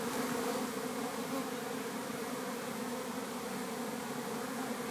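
Honey bees at an opened hive, with the frames being inspected for sealed honey, give off a dense, continuous buzzing hum that stays loud and steady throughout, with no voices.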